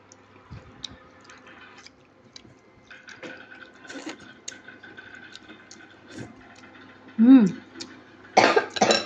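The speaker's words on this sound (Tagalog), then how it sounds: "Inuubo." A child coughs a few times near the end, preceded by quiet household clatter and faint background voices.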